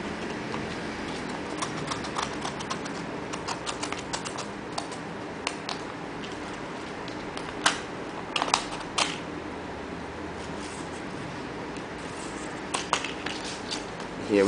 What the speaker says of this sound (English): Here I'll demonstrate on an envelope. Holding the blade inside the envelope,